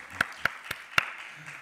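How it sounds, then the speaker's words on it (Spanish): A few sparse, sharp claps ring out at a book presentation, about four distinct hand strikes spaced unevenly over a quiet room, with no sustained ovation building. "Un aplauso."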